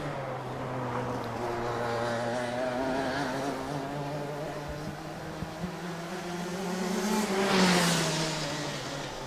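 Rotax Max racing karts at a Windhoek race track drone past with a buzzing two-stroke engine note that rises and falls in pitch, moderately distant and swelling briefly louder near the end.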